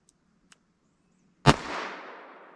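A single sharp rifle report from Armscor .22 WMR ammunition fired over a chronograph, loud and close, with a brief ringing decay afterward and a couple of faint clicks just before it.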